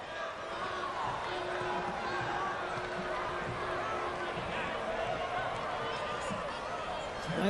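Crowd at a Memphis 901 FC versus OKC Energy FC soccer match chanting steadily in the stands, a sustained far-off roar with a repeating tone under a commentator's voice.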